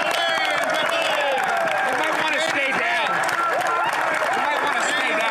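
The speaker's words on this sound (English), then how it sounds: "Everybody's standing up and cheering, of course." Parliament members stand and cheer in a chamber, a dense, loud, continuous roar of many overlapping voices with scattered clapping that holds steady throughout.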